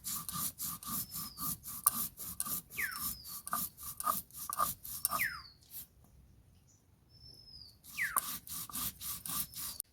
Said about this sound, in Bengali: এখন আমি পোস্তটা বেটে নেব।